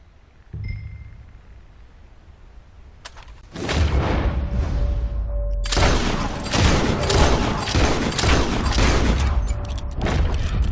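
Gunfire in Red Dead Redemption 2: a single muffled shot sounds first, then after a pause a dense run of loud, rapid shots and booming reports rolls on to the end.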